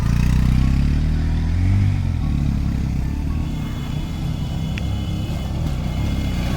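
Vehicles creeping along slowly in first gear on a hill road near Mirinja Valley in Bandarban, a loud, close engine rumble that stays steady and low-pitched with slight shifts in tone and a faint rattle, no voices.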